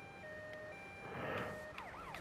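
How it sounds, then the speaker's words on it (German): Wailing ambulance siren in the GTA Vice City video game, a rising and falling electronic tone that swells toward the middle and fades, with sweeping chirps near the end, heard alone without talk. "Da kommt noch ein Krankenwagen hinterher."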